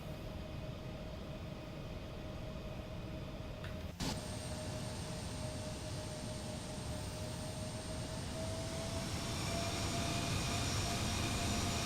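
Simulated Embraer E195 jet engines in X-Plane 12 spool up, building into a steady rising roar with a sustained tonal whine and a brief click partway through, no voices.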